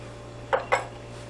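A spoon clinks twice against a dish, sharp and close, while vegan bananas foster is scooped onto the bottom layer of a sandwich, with quiet steady hum before and after.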